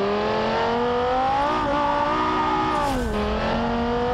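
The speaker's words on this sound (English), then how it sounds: "Down into second. It's just spinning the tires." A car's tires spinning in BeamNG.drive, a loud engine revving high with rising and falling pitch over a harsh screeching squeal, close and continuous with a brief dip as the revs drop.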